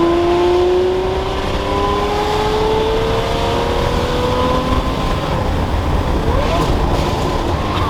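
A Ferrari 599 V12 with a straight-piped Valvetronic titanium exhaust revs and accelerates loudly up close, its rising engine tone climbing through the gears as a continuous howl with no talking.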